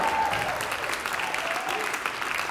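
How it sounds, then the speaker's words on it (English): Audience applause at a university jazz concert, a short burst of steady clapping from the crowd at moderate distance, filling the whole moment without speech. "How about another round of applause for the Jazz Repertory Ensemble"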